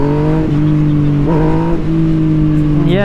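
A Yamaha MT-09 motorcycle accelerating hard for a power wheelie: a loud, close, continuous engine drone that holds steady and then climbs sharply in pitch at the very end.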